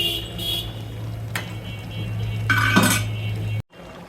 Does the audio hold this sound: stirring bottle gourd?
yes